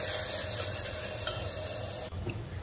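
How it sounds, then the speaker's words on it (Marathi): Sprouted matki (moth beans) sautéing in oil inside a pressure cooker: a close, steady sizzle with stirring scrapes, continuous throughout with a brief dip near the end. "मी या कुकरमध्ये थोडेसे तेल टाकून ही मटकी तेलामध्ये परतून घेणार आहे।"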